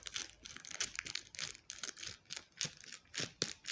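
Crisp crinkling and tearing of plastic packaging, close up, in repeated short bursts with brief pauses between them.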